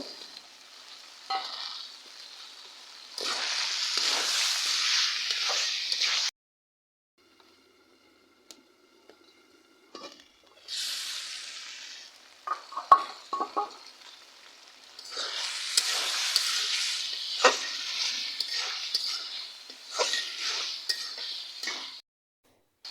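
Potato pieces fry in a pan for a dried-fish, potato and tomato curry while a utensil stirs them. Loud bursts of sizzling and scraping alternate with quiet pauses and a few clinks, close by.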